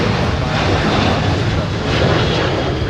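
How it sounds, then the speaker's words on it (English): A Boeing 737 jet roars down the runway on takeoff at Minneapolis–St. Paul airport, a loud, dense, continuous engine rumble and broadband roar heard close by for the whole stretch. "That'll segue nice into the 737 jumping off the runway"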